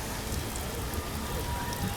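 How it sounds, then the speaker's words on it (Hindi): Heavy rain pours steadily during a journey aboard the Patna Amrit Bharat Express train in India, a dense continuous hiss with no distinct drops standing out. "भाई क्या जम के बारिश हो रही है यार"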